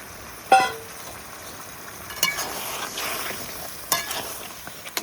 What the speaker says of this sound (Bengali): একটুখানি জল দিয়ে দিচ্ছি।